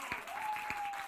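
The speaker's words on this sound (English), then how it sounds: "With warm, thunderous applause." Warm applause from a studio audience, a dense steady wash of many hands clapping at moderate volume, with a faint tone running beneath.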